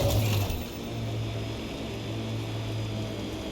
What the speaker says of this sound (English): Sounds like I'm hearing planes somewhere nearby.